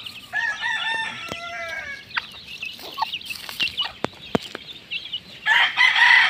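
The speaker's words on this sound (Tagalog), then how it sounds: "nabigyan na po natin ng patuka ang ating mga sisiyo dito sa baba" Chickens in a small backyard coop at feeding time, with a rooster crowing near the start followed by scattered clucks and sharp pecking taps. The sounds are close and intermittent, and a burst of busy clucking comes at the end.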